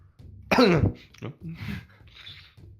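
A man in a group of gamers gives a sudden surprised cough, as if choking on saliva, a short loud burst followed by rough throat noises while other voices talk around him.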